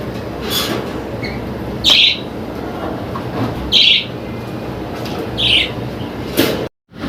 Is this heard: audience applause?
no